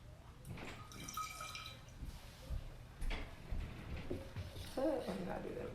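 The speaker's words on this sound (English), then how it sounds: "And we're just gonna pour it back into our bottle." A dark green herbal liquid, freshly whizzed with an immersion blender, is poured back into its bottle with soft trickling and dripping over a busy room background.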